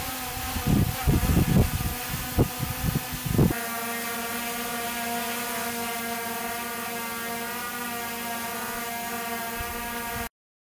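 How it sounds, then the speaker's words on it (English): Small DJI consumer drones, a Mini 3 Pro and an Air 2S, whir in flight at a fixed distance from the microphone, first with gusty buffeting and then a steady, tonal propeller hum that holds for several seconds before cutting off. "This is the noise level of each model, recorded with the same microphone at the same distance."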